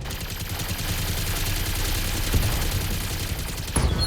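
Mech weapons firing in the Battletech PC strategy game: a sustained, dense barrage of gunfire-like blasts runs throughout at steady loudness, with a sharper impact near the end and no talking.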